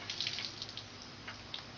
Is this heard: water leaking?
yes